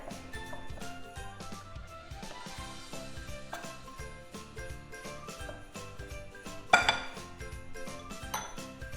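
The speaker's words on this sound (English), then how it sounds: "So we're gonna get these thoroughly mixed together." Baking soda, baking powder and salt are stirred together in a bowl, giving faint, irregular clinks and taps of a utensil against the dish with one sharper knock.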